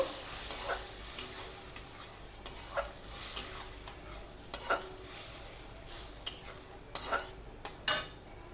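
Ground tomato for a tomato and date chutney is stirred in a pan, a spoon scraping and knocking against the metal in irregular taps over a faint, steady sizzle.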